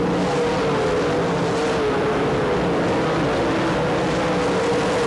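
UMP late model race cars roar around the dirt track at Barberville, Florida, a dense, continuous engine drone from the pack at close range, loud and steady for several seconds with no pauses.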